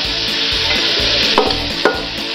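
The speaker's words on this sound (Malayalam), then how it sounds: "അതുവരെ നമ്മൾ തക്കാളി ഇതേപോലെ വഴറ്റി കൊടുക്കാം" Tomatoes sautéing in a pan for chicken pepper fry give a steady, close sizzle, with a spoon or spatula stirring through in regular strokes and two sharper scrapes near the end.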